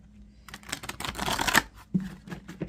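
Tarot cards being shuffled by hand, a run of soft riffling and papery flutters with brief pauses and a low background hum from a heater.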